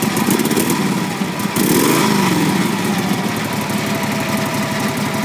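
A 1947 Harley Davidson FL Knucklehead motorcycle engine runs steadily at idle with a lumpy, throbbing rhythm and a brief rev partway through, close and loud.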